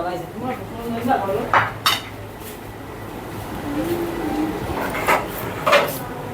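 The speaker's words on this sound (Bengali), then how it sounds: "আমি কড়াই টড়াই নিয়ে চলে আসতেছি খাওয়ার জন্য" A wok and other pots clink and clatter in a few sharp knocks against a background hum, with some faint voice in between.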